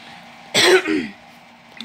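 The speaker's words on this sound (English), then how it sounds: "Like coughing." One short, harsh cough or throat-clear bursts out close and loud, followed by a softer rasp, then quiet room tone.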